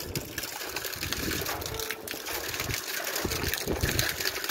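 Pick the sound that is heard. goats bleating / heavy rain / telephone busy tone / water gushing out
water gushing out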